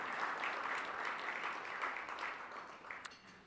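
Dinner audience clapping steadily throughout at an annual banquet, a dense even wash of applause that fades slightly toward the end.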